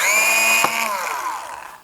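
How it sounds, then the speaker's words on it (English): A power drill with a drill bit boring out a wooden plug in a Danish modern teak chair, a loud close whine that holds steady, then slows and drops in pitch as the motor winds down. "So I'm just going to simply drill it out with a drill bit."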